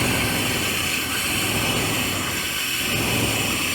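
A 1997 Chevy C1500 pickup engine, abandoned for years, runs loudly and steadily close by with the throttle held up, a dense continuous roar with no talk.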